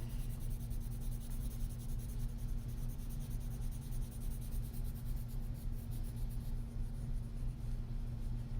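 Red pencil colouring in on paper, a steady continuous scratchy rubbing that runs throughout under a constant low hum.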